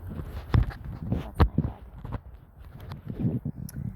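Hooves of a tall Tennessee Walker horse clip-clop at a walking pace nearby, a few uneven heavy steps over a few seconds, with faint background noise and no clear talk.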